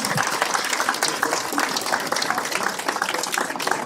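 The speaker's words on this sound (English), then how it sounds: "A round of applause." Audience applause for the organizers at a Freedom Walk volunteerism awards event in Fremont, steady clapping that fills the whole stretch at a moderate, even level.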